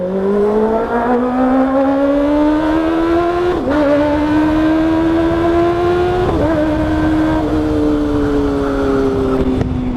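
A Kawasaki ZX6R sport motorcycle screams past in loud high-revving fly-bys, its engine note climbing steadily with two sharp gear-change dips along the way, close and dominant from start to finish.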